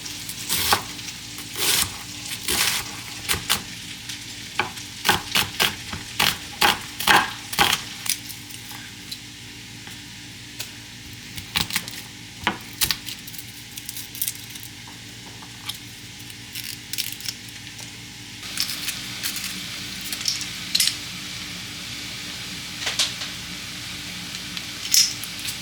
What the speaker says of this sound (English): Okay, so I will let that saute on low